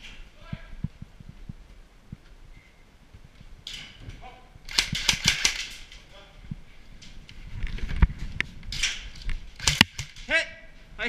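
Airsoft shots from a Spectre M4 striking a target, heard as a series of sharp clicks and snapping impacts at irregular intervals, mixed with people talking and cheering in between.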